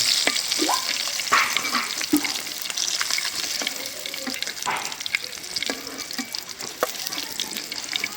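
Snakehead fish frying lightly in hot oil, a steady close sizzle broken by scraping stirs and occasional watery splashes, with no one talking.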